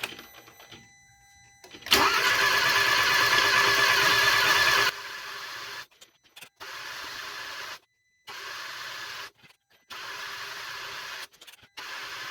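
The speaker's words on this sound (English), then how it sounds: "So as you can see, it takes a lot of cranking." After a B12 Chemtool oil treatment, a car engine cranks repeatedly without firing: one long grinding crank, then several shorter bursts broken by brief silences, close and steady.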